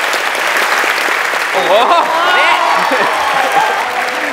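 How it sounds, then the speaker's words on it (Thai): An audience in an auditorium applauds to welcome a guest, a loud, sustained wash of clapping with a voice exclaiming over it partway through. "เอาปรบมือต้อนรับพี่ป๋องหน่อยนะครับ"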